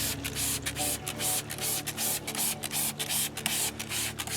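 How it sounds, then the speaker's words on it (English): Repeated bursts of hissing acid spray onto a wheel rim, short pumps in a quick irregular rhythm, loud and close against a low steady hum. "if you spray acid on a rim and it don't shine"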